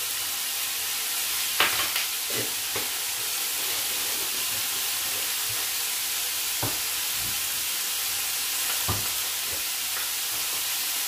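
Spinach and garlic sauté in a pan with a steady hiss of frying, broken by a few sharp utensil clicks and stirring taps, close and even, with no talk.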